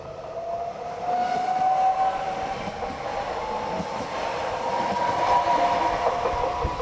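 A 3-car electric multiple unit passes Villarosa station in Sicily on the Catania–Palermo line, with a rising whine of traction motors over rumbling wheels on track, fairly close and steady throughout, with no voices.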